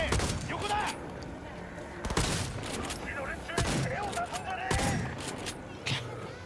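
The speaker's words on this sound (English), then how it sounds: "I love a shotgun that actually has some range to it." Shotgun blasts in Cyberpunk 2077 combat, several loud sharp bursts spaced irregularly with scattered smaller shots and clatter between, mixed with game voices.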